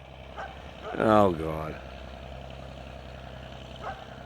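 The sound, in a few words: dog barking at a visitor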